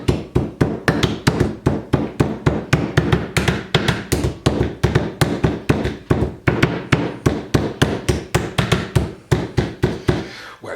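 A hammer pounds a raw chicken fillet flat for Chicken Kiev, delivering loud, close, rapid thuds at a steady rhythm of roughly four blows per second, with a few brief pauses.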